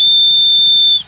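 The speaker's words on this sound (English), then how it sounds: "Does this paramotor have a rape whistle?" A steady high-pitched whistle on a paramotor sounds loud and continuous for about a second, then cuts off abruptly, with a faint low rumble underneath.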